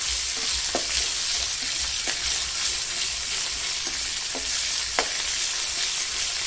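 Minced pork frying with chili paste in a hot pan for a spicy northeastern Thai dip, a steady loud sizzle with occasional scraping stirs, close and without speech.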